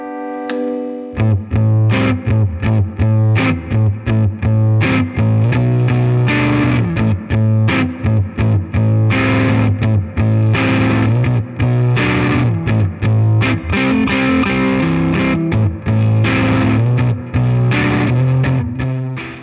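Heavily distorted Fender Vintera II Road Worn Jazzmaster electric guitar played loud and continuous, chugging riffs with effects-laden sustain and no voices.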